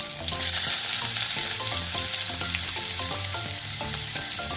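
Chopped onion, garlic and ginger fry in a pan with a loud, steady sizzle that keeps going without a break and has no voices over it.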